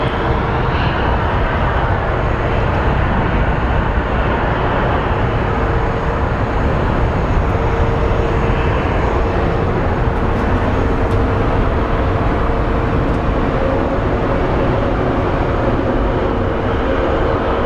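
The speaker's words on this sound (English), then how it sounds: "here comes our WestJet. Headed to Edmonton." A WestJet airliner passes at Phoenix Sky Harbor airport, its loud, steady jet roar holding at constant strength for the whole stretch.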